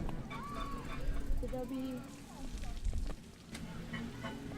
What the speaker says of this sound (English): the lake on our left with some very busy ducks and geese